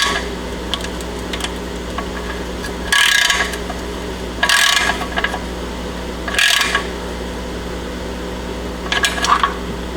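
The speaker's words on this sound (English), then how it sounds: "And then just snug it up with the wrench." A wrench snugging up a part during a 400-hour service on a Kubota compact tractor, with several short ratcheting bursts spaced a second or two apart over a loud constant low hum.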